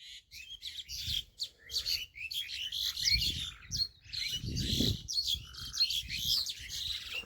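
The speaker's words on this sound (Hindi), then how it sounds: "देखो चिड़ियों की आवाज़ देखो" Birds chirp and tweet in village farm fields, with a busy chorus of bright calls overlapping continuously, some close and some farther off, over a low outdoor rumble and no speech.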